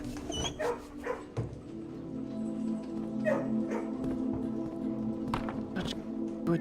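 Several dogs indoors bark, yip and whimper in short bursts, close and fairly loud, over a steady low household hum, with occasional footsteps.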